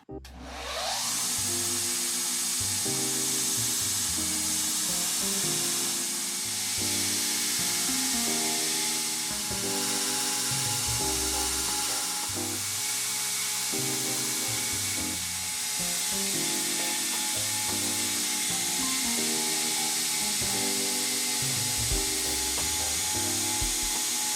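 A saw cuts through knife handle bolsters in a steady, rhythmic back-and-forth grind that continues at close range without pause.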